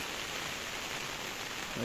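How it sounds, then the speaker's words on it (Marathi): Heavy rain pours down in a village goat-rearing yard, a dense, steady hiss of drops on surfaces with no talking, constant from start to end. "तर आता जोराचा पाऊस आलेला आहे"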